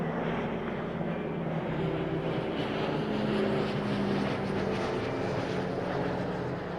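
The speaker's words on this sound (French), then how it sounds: "Regardez là-bas, il y a un A380 dans le ciel." Airbus A380 airliner flying overhead at the Paris Air Show at Le Bourget, a steady broad jet roar with droning engine tones, continuous and fairly loud throughout.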